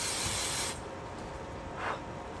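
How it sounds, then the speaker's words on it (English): An instant nail dry spray is sprayed over a freshly applied base coat, giving one steady hiss of about three quarters of a second, followed by a second short, softer puff. "now I'm supposed to just spray."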